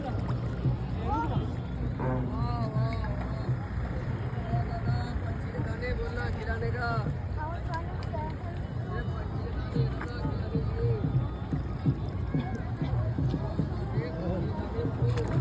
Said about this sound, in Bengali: আমরাও চলেছি আমাদের বোটে